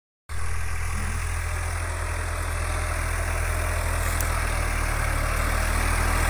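An unloaded tractor engine runs steadily at idle after starting abruptly, giving a continuous, even, close-up drone with a low throb throughout.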